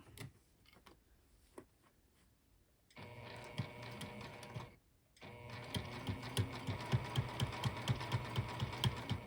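Sewing machine stitching a sling bag: scattered clicks and a pause, then the motor whirs in a steady run, stops briefly, and resumes with a rapid rhythmic needle chatter, close and fairly quiet.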